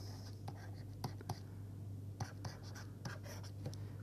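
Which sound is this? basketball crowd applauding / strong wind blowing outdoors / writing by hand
writing by hand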